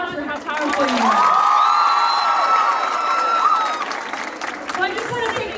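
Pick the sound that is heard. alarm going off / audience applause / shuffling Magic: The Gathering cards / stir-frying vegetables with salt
audience applause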